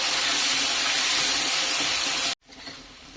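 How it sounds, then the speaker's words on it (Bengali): Potatoes, seasoned with salt and turmeric, fry in hot oil until reddish, giving a steady, loud hiss of sizzling that cuts off abruptly after about two seconds and leaves a quieter background. "বেশ কিছু সময় নিয়ে আলুগুলো লাল লাল করে ভেজে নিয়েছি।"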